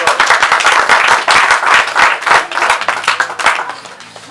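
A church congregation claps rhythmically and loudly in a close, lively burst that tapers off toward the end, with faint voices mixed in.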